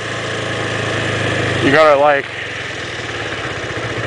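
A motorcycle engine idles steadily before wheelie practice in a parking lot, a low continuous hum under a short burst of nearby speech.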